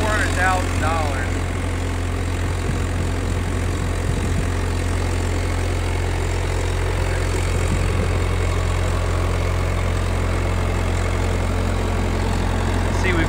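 A 2018 UTV Achiever tracked digger derrick, an off-road powerline utility crane, idles with a steady, even diesel rumble that holds unchanged throughout, with faint background noise over it.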